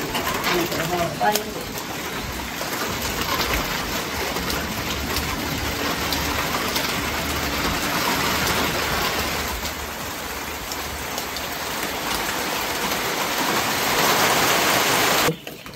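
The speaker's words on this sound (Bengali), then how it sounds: "বৃষ্টি মনে হইলো জোরে নাম বানছে।" Heavy rain pours down steadily near a Shiva shrine during a puja, giving a dense, continuous hiss with voices talking through it.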